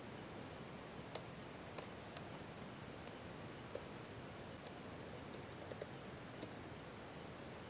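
Quiet, scattered keystrokes on a computer keyboard during data entry, a few light clicks spaced irregularly over a faint background hiss.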